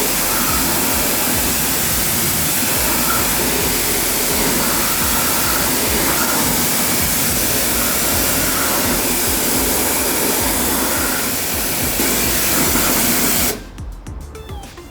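A garden hose sprays water steadily onto a car wheel to rinse off gel-type iron remover, a continuous loud hiss of water lasting about thirteen seconds and then cutting off abruptly near the end.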